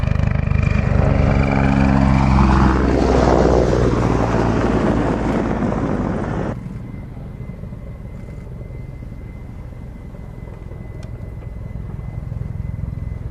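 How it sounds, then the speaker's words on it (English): A loud helicopter roars nearby with heavy rotor thumping, then drops abruptly to a quieter, steady engine drone as it moves away. "my favourite helicopter display of all time"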